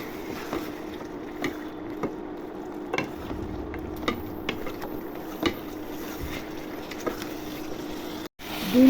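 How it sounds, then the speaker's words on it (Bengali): Beef is stirred in a cooking pot with fried spices, scraping and clanking strokes of a utensil at irregular intervals over a low steady sizzle, with a louder bump at the end. "নেড়ে চেড়ে দিব।"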